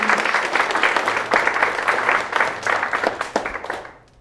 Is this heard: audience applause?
yes